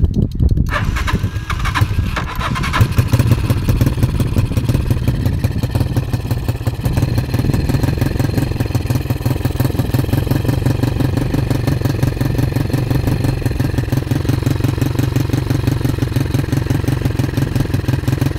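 A motorcycle engine starts and runs loud and raw with no muffler fitted, a steady rapid popping idle that stays close and constant.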